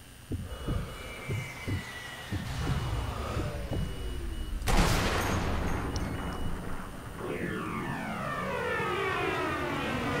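Bomber aircraft roar overhead during a raid in Sniper Elite V2, a steady drone with whooshing passes, rumbling booms early on and a loud burst near the middle, continuous and close throughout.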